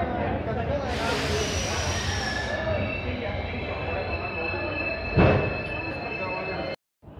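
The Lalkuan–Howrah train pulls out of Puranpur station with a steady rumble and rolling clatter, a high whistle-like tone overhead and a sharp loud clank midway, while people talk nearby.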